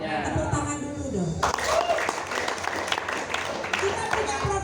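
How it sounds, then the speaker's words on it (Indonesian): Dense clapping from an audience swells up after a voice, filling the room with continuous applause. "Tepuk tangan dulu dong."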